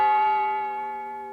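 A single bell tone rings out with steady harmonic overtones, fading slowly as it decays, heard alone and fairly quiet.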